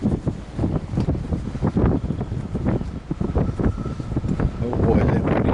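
Wind gusts buffet the microphone beside a fast-flowing river, a loud, uneven rush of rumbling bursts that swells and dips, with a person talking over it.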